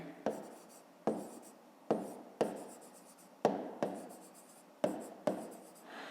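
A pen writes out a fifth-grade math exercise solution by hand on paper, with eight or so distinct scratchy strokes in an uneven rhythm, close and fairly quiet, with no voices.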